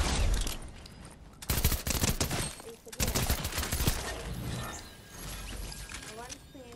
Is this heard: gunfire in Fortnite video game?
yes